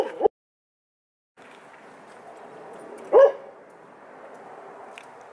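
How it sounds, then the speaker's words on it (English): Dogs barking outside a 2016 Ford Escape: a short bark, a pause, then one loud bark over a low steady background hum, followed by a faint yip near the end. "The dogs are outside with me and they're barking at anything and everything."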